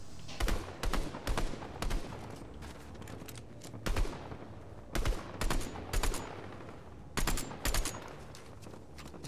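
Fortnite gunfire arriving in short clustered bursts of rapid shots separated by brief quiet gaps, crisp and fairly close, repeating across the whole stretch.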